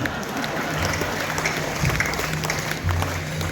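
Audience applause at a Hindi comic poetry gathering (kavi sammelan), a steady dense patter of clapping from a seated crowd, moderately loud and sustained throughout without a pause.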